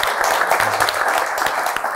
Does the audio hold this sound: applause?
yes